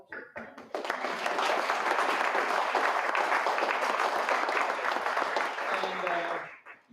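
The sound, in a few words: audience round of applause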